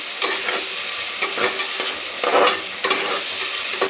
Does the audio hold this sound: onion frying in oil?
yes